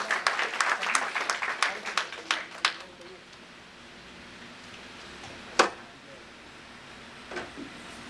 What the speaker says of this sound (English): So please give him a very, very warm round of applause.